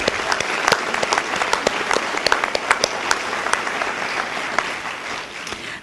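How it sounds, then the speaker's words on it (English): A crowd applauds at a 2013 commencement ceremony, with loud, dense, sustained clapping that stays steady and then tapers slightly. "That deserves a round of applause."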